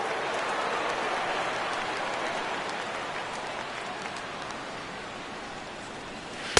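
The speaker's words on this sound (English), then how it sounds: "Rain continues to fall here in the 6th." Rain falling steadily at a baseball stadium during a Mets versus Nationals game, a dense, even hiss with a faint spattering texture, continuous and fairly close with no voices.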